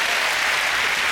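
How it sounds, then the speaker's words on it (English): A television panel show's studio audience gives dense, loud, continuous applause that fills the whole brief moment evenly. "a big round of applause for our meerkat"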